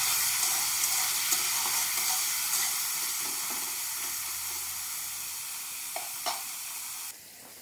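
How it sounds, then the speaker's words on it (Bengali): Carrots frying in oil for vegetable fried rice, giving a dense, steady sizzle and crackle close up that fades slightly and then drops off near the end, with a couple of faint utensil taps and no voices. "ওই তেলেই দিয়ে দিচ্ছি গাজর, গাজর কটা এভাবে আমি ভেজে নেব।"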